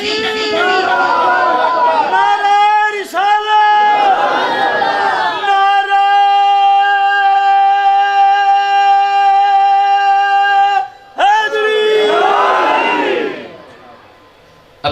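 A large crowd chants slogans in loud, rhythmic unison, swelling into sustained held tones between bursts of mass shouting, close and filling the space, with no single voice standing apart.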